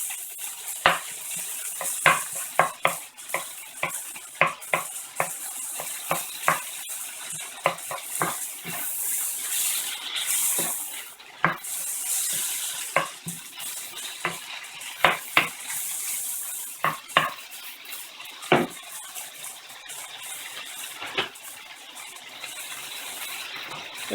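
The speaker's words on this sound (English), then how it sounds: "we're going to add our chopped mango." A spoon or spatula stirs chopped mango around a hot pan. Quick metallic scrapes and clicks come in an irregular rhythm over a soft sizzle, close up and with no talking.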